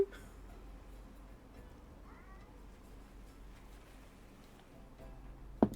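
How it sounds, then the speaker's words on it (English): Faint cat meows from out in a hallway, a couple of soft, distant calls over quiet room noise with a sharper sound at the very end. "Somebody's out in the hallway just meowing."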